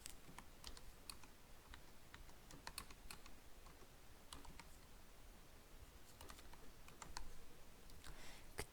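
Steady, quiet typing on a computer keyboard as text is entered during a graphics-software exercise. The keystrokes are soft, irregular and continuous, with no speech.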